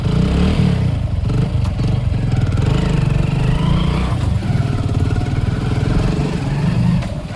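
A motorcycle engine runs steadily while riding through a village, a loud, close, continuous putter with a rattly, clattering edge and slight surges.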